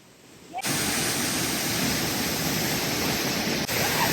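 Nabontolang Falls, a massive waterfall in the Philippines, roars as a steady, loud broadband rush that starts abruptly after a brief quieter moment and continues unbroken.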